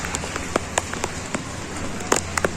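Heavy rain falling in Chennai, a steady close hiss of drops on surfaces with scattered sharper splashes and taps, loud and continuous with no speech.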